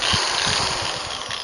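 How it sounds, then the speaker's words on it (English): A real power drill runs continuously at close range, a dense, steady whirring buzz with rough low-end pulsing and no pauses or voices. "This is a legit drill."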